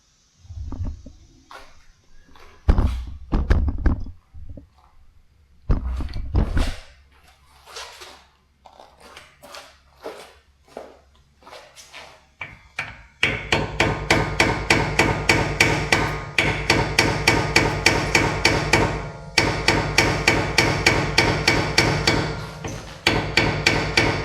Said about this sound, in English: I'm going to hit it with a heavy carpenter's hammer and see if I can't back this thing out